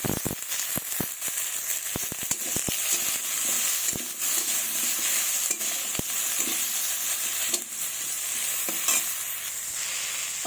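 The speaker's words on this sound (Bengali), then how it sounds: "পরিমাণ মতো লবণ ও হলুদ গুঁড়ো নাড়াচাড়া করে নেবো" Potatoes frying with salt and turmeric powder in a pan, a soft continuous sizzle broken by sharp clicks and taps of a spoon stirring against the pan at an irregular rhythm.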